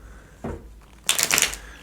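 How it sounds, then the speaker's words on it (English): A short shuffle of a tarot deck: a soft riffle followed by a brisk burst of crisp card flutters, close and brief, with no voice. "let me give you a quick shuffle."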